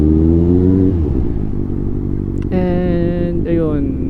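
A 2024 Kawasaki ZX6R inline-four motorcycle engine idles with a low, throbbing rumble, then revs in sharp rising bursts, two high-pitched climbs heard up close.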